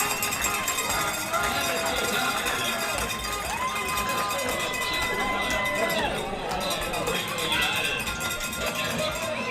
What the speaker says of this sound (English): The crowd erupts here at Legion Stadium.